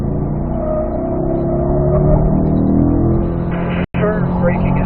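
A car accelerating hard on the Spring Mountain North Course race track, the engine note climbing steadily and droning loud and close, with a brief cut near the end.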